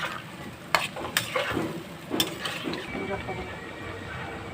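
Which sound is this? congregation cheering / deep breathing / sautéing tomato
sautéing tomato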